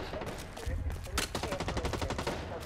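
Sharp gunshots in the video game Blacklight Retribution come in a rapid string of close, punchy reports, with some talk mixed in.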